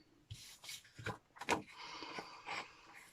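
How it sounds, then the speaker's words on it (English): Snips fussy cutting around a stamped paper butterfly for a handmade card, giving a few soft, close rasping snips and paper rustles spaced through a quiet stretch. "I'm just going to get some snips and fussy cut him out"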